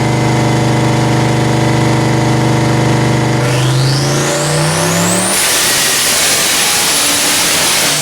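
A turbocharged stick-shift Fox Body Mustang roars at high load on a dyno. The loud engine tone climbs steadily as revs rise, then breaks into harsh broadband noise with a whistling whine as the clutch gives out, with no talking.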